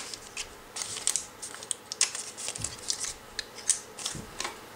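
A die-cutting machine pressing butterfly shapes through a stack of cutting plates, giving a steady run of crisp crunching and clicking crackles up close, with no talking.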